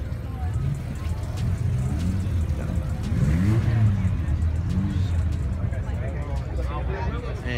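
A Chevrolet Chevelle's engine idles and rumbles at a busy cars and coffee meet, a steady low drone beneath nearby people talking.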